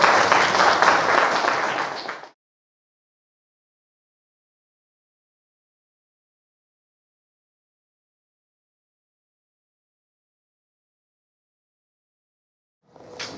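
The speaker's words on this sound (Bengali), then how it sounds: "আজকে জোরে হাততালি হোক।" An audience at a Netaji Jana Chetana Yatra event in Katwa breaks into dense, loud applause for about two seconds, then long silence before clapping briefly starts again at the end.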